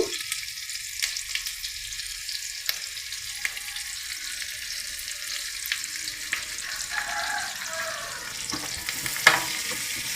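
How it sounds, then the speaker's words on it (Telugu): Chopped onion, green chilli and curry leaves fry in oil until golden, making a constant soft sizzle with occasional spoon taps and scrapes in the pan, close by, with no talking. "ఉల్లిపాయ తరుగు బాగా వేగింది కొంచెం గోల్డ్ కలర్లోకి వచ్చింది"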